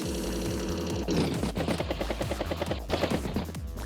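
A mech unit's strike attack in Advance Wars by Web plays as a rapid, loud burst of machine-gun-like game fire with rhythmic pulses over a steady music bed, no talk.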